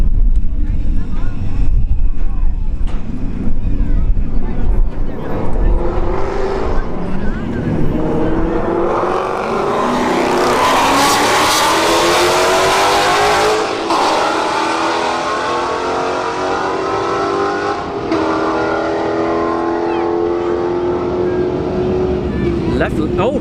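Ford Mustangs launching down a drag strip at Bradenton Motorsport Park's Street Heat night, engines roaring loud and close, then revving up through the gears as the cars pull away and fade, with an announcer talking at the start.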